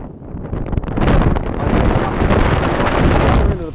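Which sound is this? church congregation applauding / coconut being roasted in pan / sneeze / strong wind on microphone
strong wind on microphone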